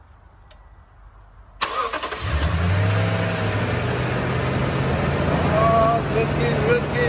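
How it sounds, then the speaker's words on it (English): A Toyota Tundra pickup truck that previously cranked without starting turns over: a sharp crank catches and the engine settles into a steady, close idle that runs on to the end. "Let's see if the truck starts up."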